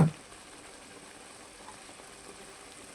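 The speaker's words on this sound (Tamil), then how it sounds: "அந்த மசாலா வாடை போகிற அளவுக்கு நல்லா நம்ம கொதிக்க விடலாம்" A soft, steady sizzle and bubbling hiss of masala for mutton pepper chukka simmering in a pan, continuous and fairly quiet, with no talking.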